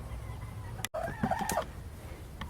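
Chickens in a backyard coop housing about 18 birds cluck and call at close range, with a few distinct vocal bursts over a steady low background.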